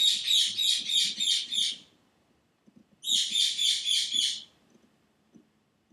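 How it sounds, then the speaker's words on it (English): Loud, close bird chirping comes in two rapid bursts of repeated high notes, a short pause between them, with faint indoor background noise. "Bird is so loud."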